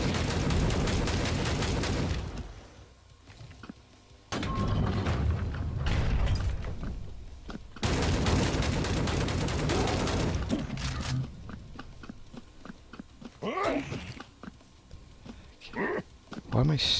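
Shotgun blasts from the Hellbound shooter game come in loud bursts between quieter gaps. Clattering mechanisms and other game effects fill in around them, and a voice talks over parts of it.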